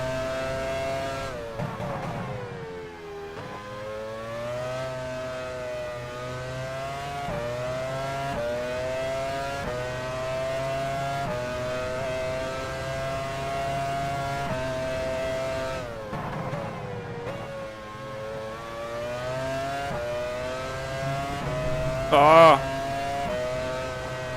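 Formula One race car engine in the F1 Challenge 99-02 video game at the 1999 British Grand Prix, held near full throttle: a sustained high-pitched whine rising through brief gear shifts, loud and steady, with a voice talking over it.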